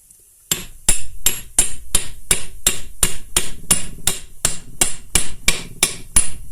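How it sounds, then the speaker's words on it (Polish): A hammer strikes a metal part of a Yanmar FX265D tractor's front-drive steering knuckle about fifteen times in a steady rhythm, each blow a sharp ringing clank, loud and close. "Myślę, że bez młotka się to nie obędzie."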